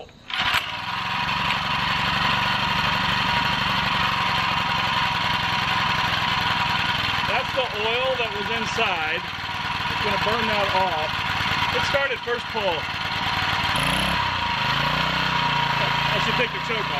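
A small four-stroke engine runs steadily and loudly from start to finish after being pull-started, its drone continuous with brief changes in pitch, while people talk over it now and then.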